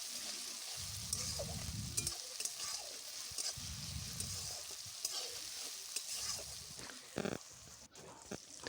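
Spice paste with garlic paste sizzles and fries in a pan for a Bengali cauliflower fish curry, with a steady hiss and intermittent stirring scrapes close by.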